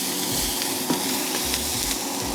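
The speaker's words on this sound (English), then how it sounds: "Peppers have been frying for about 5 minutes or so" Peppers sizzling in a hot pan, a steady crackling hiss with occasional pops and light stirring, no voices.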